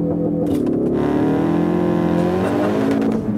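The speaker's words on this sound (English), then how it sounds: "Yeah, floor the throttle and drop the clutch, and off you go." A Ford Focus RS launches from a standstill using launch control at full throttle, its engine roaring loud and close as the pitch climbs steadily through hard acceleration, with no talking over it.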